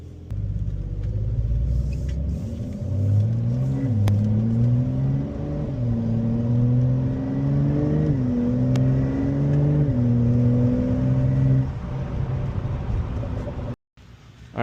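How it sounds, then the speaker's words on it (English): A Porsche 992 Targa on a test drive holds a steady engine drone, with the pitch rising and dipping as it accelerates and shifts, sustained for over ten seconds before cutting off abruptly near the end. "I'm going to take a quick test drive in her"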